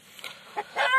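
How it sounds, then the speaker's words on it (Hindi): Desi hens on a small village poultry farm let out a few sharp, close clucks and squawks in quick bursts, rising to a loud final cackle. "शायद उसके अंडे पे दूसरी मुर्गी बैठ गई है, तो इसीलिए वो मुर्गी चिल्ला रही है।"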